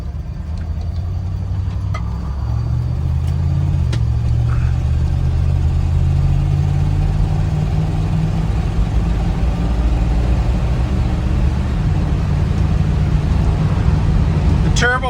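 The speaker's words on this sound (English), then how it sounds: "You get a slight sound from the fan, but other than that, you know, with your typical wind noise on the older convertibles" A 1965 Buick Wildcat convertible with a 401 Nailhead V8 and Turbo 400 transmission cruises along, its steady low engine drone blending with constant wind rush and a faint fan hiss, with a voice talking over it.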